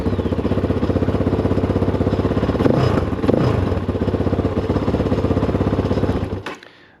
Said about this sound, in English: yes, it did start, but it did need a tiny bit of throttle just to get going